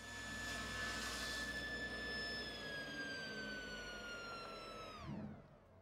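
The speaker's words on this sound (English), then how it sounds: "Now we're ready to take our stock to the table saw and cut it to size." A table saw spinning at full speed as wood leg stock is cut to size, a loud steady high-pitched whine with strong harmonics that holds for several seconds, then drops in pitch as the blade winds down near the end.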